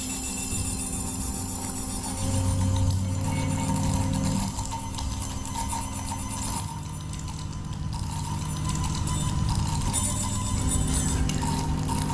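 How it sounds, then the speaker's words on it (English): A fluidic shift register machine running on salt water storing one bit at a time produces steady mechanical ticking and clinking, with soft watery sounds, repeating rhythmically at moderate volume with no voices. "This is a fluidic shift register."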